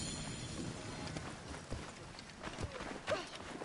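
Horse hooves clip-clop in Assassin's Creed Origins, a faint, irregular patter of steps under a dense rumbling game ambience.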